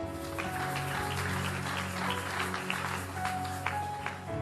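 A church congregation at a prophetic service claps and cheers for the Lord, sending out a dense, steady wash of applause that holds at an even, loud level throughout, with organ-like tones sustained underneath.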